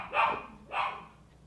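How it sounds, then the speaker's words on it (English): Dogs barking in a house, two separate barks about half a second apart, fairly close but not loud, with nothing else heard. "Sorry about my dogs."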